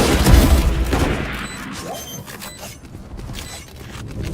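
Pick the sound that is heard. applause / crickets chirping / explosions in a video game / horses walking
explosions in a video game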